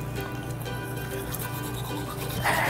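Teeth are brushed with a toothbrush and homemade baking-soda toothpaste, giving a steady close scrubbing sound that grows louder and wetter near the end.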